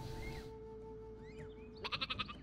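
Sheep bleating in the Worms W.M.D video game, a short run of wavering bleats near the end over a steady background hum and game ambience.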